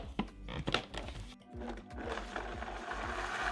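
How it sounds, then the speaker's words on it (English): A countertop blender runs on spices, cinnamon, salt and water for a Mexican slow cooker sauce, a close, steady motor whir with a few thunks at the start. "And now you're going to blend until smooth."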